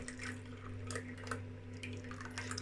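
Thin homemade yoghurt pours steadily into a container, a soft continuous liquid trickle with faint dripping, close by, over a low steady hum.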